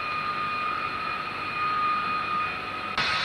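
Several RAF Harrier GR3 jump jets of 3(F) Squadron lined up for takeoff at Gutersloh in summer 1989, a steady loud jet engine whine with high sustained tones, holding throughout with a brief shift near the end.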